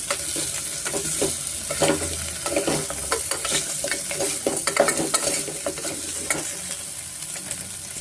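Ingredients for hotel-style mutton leg soup fry over a medium flame, a continuous close sizzle broken by repeated scraping and clattering of a ladle stirring in the pan, with no voices.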